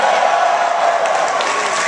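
An audience in a theater cheers and applauds loudly, producing a steady wash of crowd noise that carries on throughout.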